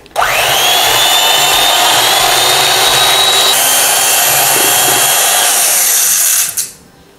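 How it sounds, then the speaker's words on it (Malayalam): Electric beater whipping 300 ml of whipping cream for a mango cheesecake, a loud steady whine running unbroken for about six seconds before shutting off, with no talking. "വിപ്പിംഗ് ക്രീം 300 ml ഉണ്ട്. ഇത് ബീറ്റ് ചെയ്യാം."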